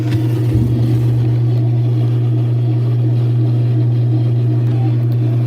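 A 1995 washing machine runs its spin cycle with a loud, steady motor hum and a low droning drone, continuous and close, with no voices over it.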